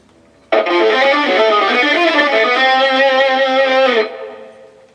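Quick bebop phrase on electric jazz guitar over a 2-5 progression in C, a continuous stream of notes for about three and a half seconds before the last note sustains and decays, with no talking.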